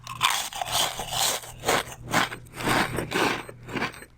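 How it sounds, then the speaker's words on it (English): Crunching of Pringles Extreme Dill Pickle flavor chips, a steady run of loud, close, dry crackling bites and scrapes repeating in bursts, with no talk over it. "That's not the crunch I know and love. That can be only one thing. Motherfucking Pringles Extreme Dill Pickle flavor."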